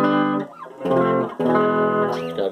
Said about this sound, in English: So what you hear is just a clean.